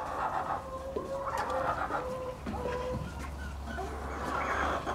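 A hen clucks and murmurs in repeated short, nasal calls close by, over a steady low background hum, with no speech.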